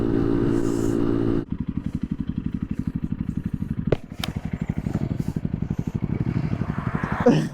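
A small motorcycle fitted with a larger rear sprocket is ridden along, its engine putting out a fast, even pulsing drone close by, with a few clicks and clatters over the rhythm.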